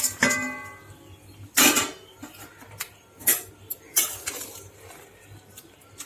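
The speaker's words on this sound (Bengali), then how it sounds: "এবার আমি ভেজে রাখা মাছ আলু আর বেগুন সব দিয়ে দেবো" Fried fish, potato and eggplant dropped into a boiling curry: a few scattered clattering knocks of utensil against pot and splashy bursts with quiet pauses between, fairly close.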